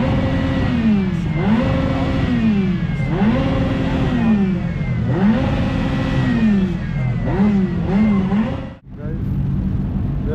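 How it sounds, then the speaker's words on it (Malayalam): At an auto show in Leipzig, Germany, a Ferrari's engine revs loud and close, repeatedly climbing and dropping in pitch as it pulls away, then cuts off abruptly near the end. "നമ്മുടെ ഫെറാറി പോയിട്ടുണ്ട് കേട്ടോ."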